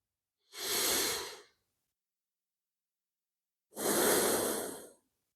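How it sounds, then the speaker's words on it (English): Two slow, deep breaths during a yoga practice, each a soft airy exhale lasting about a second, close and separated by a long silence. "And again, nice deep breaths here."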